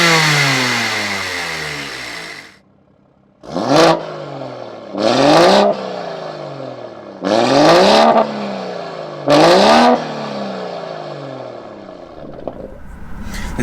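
Engines of a 50bhp 125cc go kart and a 460bhp 3-litre BMW M140i revving, loud and close: a steady droning idle, a brief pause, then four sharp rising revs with a throaty burble between them.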